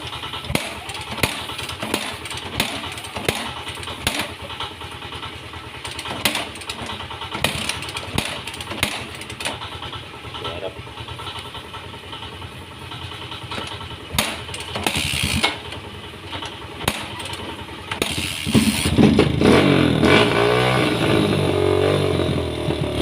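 A Kawasaki KLX 150 dirt bike with an ignition fault is kick-started again and again with rhythmic cranking, then catches and idles before revving up loudly near the end.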